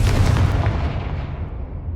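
A Confringo fire spell blasts in the Hogwarts Legacy video game with a loud, booming explosion that rumbles and slowly fades over about two seconds.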